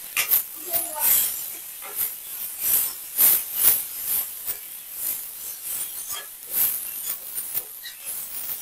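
Spices for a spicy egg chutney fry in oil, a steady crackling sizzle with pulsing bursts of hiss close by, while a voice talks over it.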